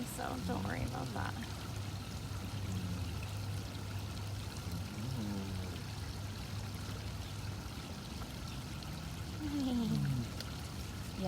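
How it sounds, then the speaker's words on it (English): Water trickles steadily through an animal enclosure as a constant, close, continuous wash, with faint chirping birds at a few points. "We've got lots of water trickling"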